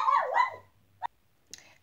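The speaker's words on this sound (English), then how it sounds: "my dogs get all hyper and extra when they hear someone at the door or someone walking past the door" Pet dogs inside a home bark and whine excitedly at someone at the door, a yelping howl followed by a couple of sharp, separate barks nearby.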